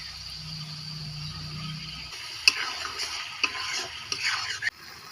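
Spice masala being fried and stirred in a pan, a soft sizzle under irregular scraping and light clicking strokes of a spoon, with a low hum fading out early.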